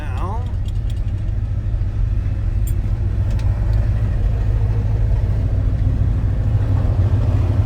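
A 1961 Ford F-250 pickup's 390 V8 engine idles steadily with a deep, even rumble, loud and close throughout, with a few faint clicks early on.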